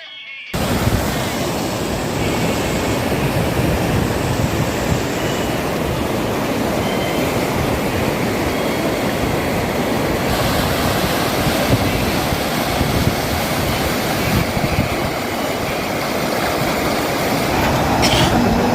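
Water from Timmappa Nayaka lake, overflowing after two days of unbroken rain, pours over the spillway in a steady, loud, unbroken roar.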